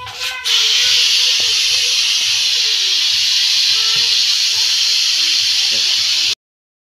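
Steam hisses loudly and continuously from a pot of pork adobo once the flame is turned off, a steady broad rush that holds for several seconds before cutting off abruptly.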